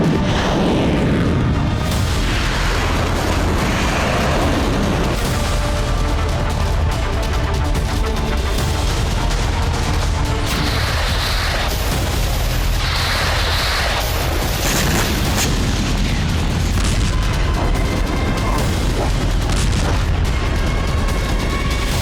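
A Russian missile launch produces a loud, sustained roaring rumble with heavy booming bursts that run continuously for more than twenty seconds.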